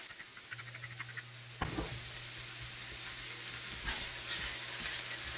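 Broccoli slaw sizzles steadily in a pan cooked on medium-high heat, with a continuous frying hiss and occasional scraping stir strokes, close and fairly loud throughout.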